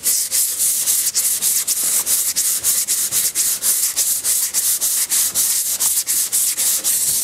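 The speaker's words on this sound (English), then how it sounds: "Now this front, we're going to sand a little bit different because of the curves there" Block sanding the hood of a 1966 Mustang by hand, a loud, rhythmic back-and-forth rasp of roughly three strokes per second, steady and close with no talking.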